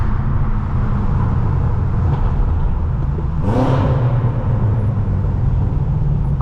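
A BMW M6 engine pulls hard on a highway after a tunnel, a steady loud interior drone with a rising rev sweep around the middle before settling back into a continuous cruising hum.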